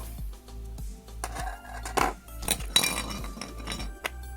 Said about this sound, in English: The pot's going on.